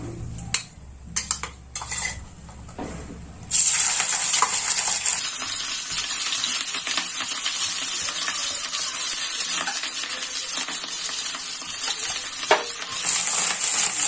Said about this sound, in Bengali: এবার আমি এর মধ্যে চিংড়ি মাছগুলো দিয়ে দেব।